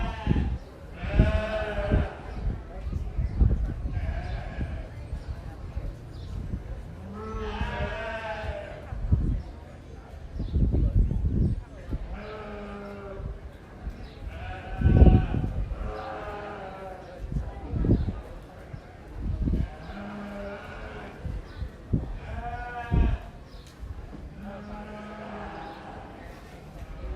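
Sheep bleating repeatedly at a county fair breeding sheep show, several loud wavering calls spread across the clip with an announcer and people talking in between.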